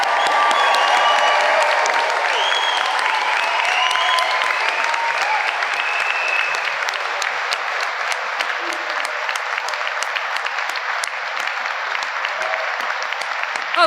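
A graduation audience at a university ceremony applauds steadily and loudly, dense clapping with some cheering mixed in, sustained for the whole stretch without letting up.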